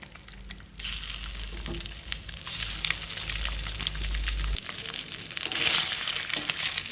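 Eggs frying in hot mustard oil in a pan, a steady close sizzle and crackle running throughout with occasional louder spits, a low hum underneath for the first few seconds.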